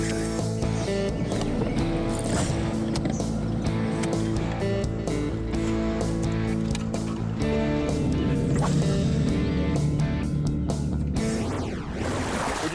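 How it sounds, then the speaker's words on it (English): Many bass fishing boats launch together on Weiss Lake, a dense, continuous roar of outboard engines droning at close range with no pauses, fading slightly at the very end. "225 boats taking off this morning from Weiss Lake"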